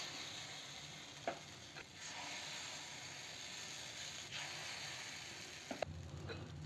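Sweet wheat-flour paniyaram batter sizzles steadily in a paniyaram pan, a faint, even hiss throughout with a few soft clicks of the utensil against the pan.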